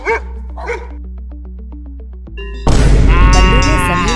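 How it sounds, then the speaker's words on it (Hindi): A dog gives a run of short, sharp barks in quick succession, close and fairly loud, before a sudden louder burst of noise takes over. "जोर जोर से भौंकने लगा"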